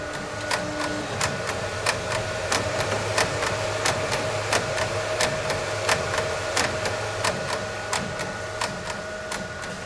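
A Ricoh RI4000 printer laying down white ink on a tote bag, with a steady mechanical hum and a regular train of sharp clicking ticks from the moving print carriage, close and continuous without speech.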